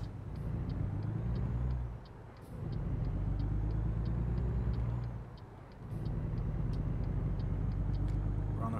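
A truck engine in American Truck Simulator drones steadily along a highway with a low, continuous rumble that dips briefly twice, and faint regular ticking sounds run above it.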